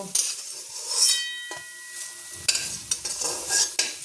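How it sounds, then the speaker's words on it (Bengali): Green banana fritters fry in hot oil with steady sizzling, while a utensil stirs and clinks against the pan in several sharp taps, close up with no talk. "আবার আমি আবার বড়া ভাজছি"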